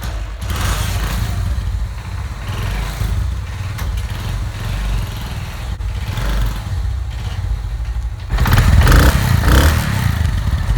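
A Honda 70 motorcycle engine runs at close range with a steady, clattering idle, then grows noticeably louder and rougher near the end.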